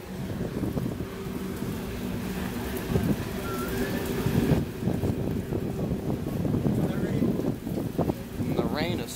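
Steady rain patters throughout, with faint rumbling of a CSX Tropicana juice train and some voices underneath.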